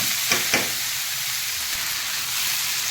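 Diced figs and potatoes sizzle steadily in a pan with salt and turmeric, a close continuous frying hiss with two quick stirring scrapes early on and no talking.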